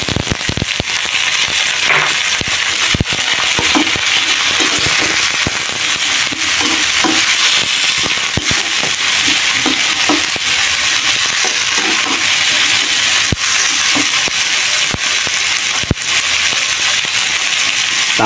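Green beans stir-fried with beef tendon in a pan, a steady loud sizzle with scattered clicks and scrapes of a utensil against the pan.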